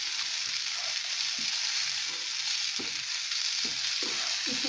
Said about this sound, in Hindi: इसी तरह से चला के हम दोनों तरफ से सेक लेंगे, जब तक ये क्रिस्पी ना हो जाए।